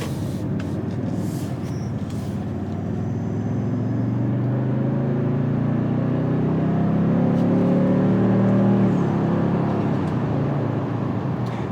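Toyota Tundra 1794 CrewMax 4x4 pickup accelerating moderately on the road, a steady exhaust drone climbing in pitch through the gears with an audible transmission shift near the end, continuous rumble and road noise throughout, no talking.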